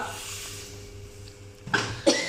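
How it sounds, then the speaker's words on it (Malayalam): Two quick coughs near the end, close and loud, after a quiet stretch with a low background hum from a fan in a kitchen. "അതാണ് എനിക്ക് ചുമ വരുന്നത്"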